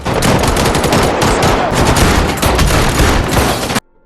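Loud, rapid bursts of gunfire rattle without pause in a shootout, automatic weapons firing in dense overlapping volleys before stopping abruptly.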